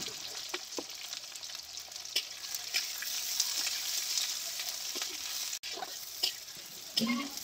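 Chopped onions fry in oil with whole garam masala, cumin seeds and bay leaves, making a loud, continuous, close sizzle, with repeated spatula scrapes and stirring knocks throughout and no talk.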